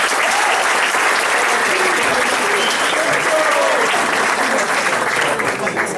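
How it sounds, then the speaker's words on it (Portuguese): Loud, sustained audience applause at a seminar on emotional intelligence, a thick continuous roar of many hands clapping with faint voices mixed in. "Uma salva de palmas."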